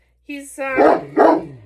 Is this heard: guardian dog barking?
yes